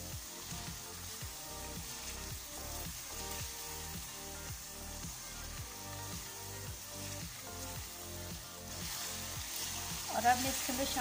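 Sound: masala frying with yogurt in a pan

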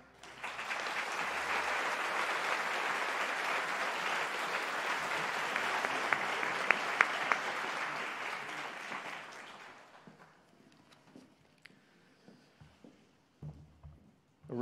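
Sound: audience applause for doctoral graduates

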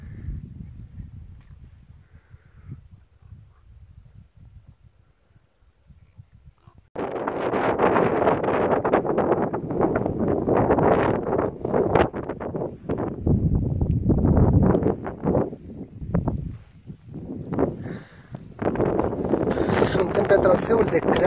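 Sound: wind blowing on mountain ridge

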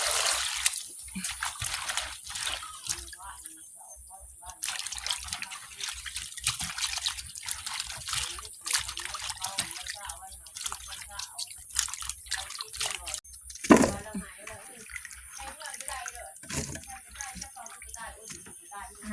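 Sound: washing ingredients in water

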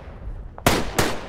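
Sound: gunshots in the video game Tannenberg

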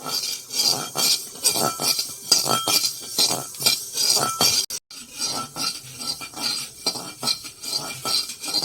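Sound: coriander and cumin seeds frying in a pan

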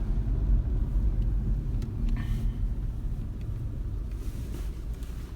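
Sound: Renault Megane car engine running while driving

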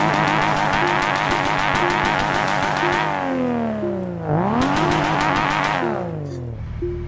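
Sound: car two-step launch control popping

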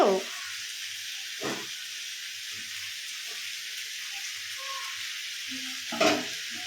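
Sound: goat meat frying and being stirred

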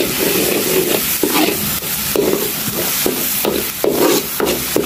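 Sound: stirring fried tomato masala with red chili in a pan

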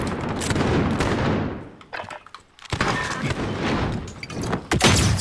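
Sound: gunshots in the video game Modern Warfare

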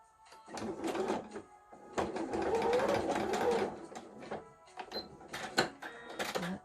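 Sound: sewing machine stitching fabric for a mask

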